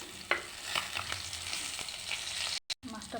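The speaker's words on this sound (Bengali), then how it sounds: "কড়াইতে তেল গরম করে হলুদ নুন মাখিয়ে একটা মাছ ভেজে নিচ্ছি" A fish coated in turmeric and salt fries in hot oil in a kadai, giving a steady, soft sizzle with a few sharper spits, ending in a brief cut-out.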